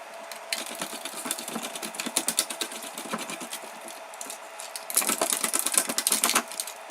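A homemade shredder driven by a wiper motor chews through 3D-printed parts, making a rapid, rhythmic mechanical clatter that briefly slips, then returns louder and busier toward the end; nobody speaks.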